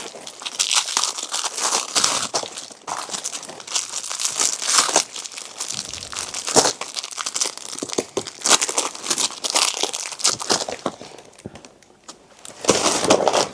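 Sheets of children's stickers crinkle and crackle as they are handled, with bursts of papery rustling, crumpling and occasional tearing sounds continuing closely and irregularly, without voices.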